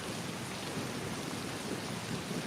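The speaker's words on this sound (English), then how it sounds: "Okay, so that's just like a thunderstorm." Steady rain and rumbling thunder from a thunderstorm fill the scene, a dense continuous wash of noise that stays even and fairly loud throughout, with no voices.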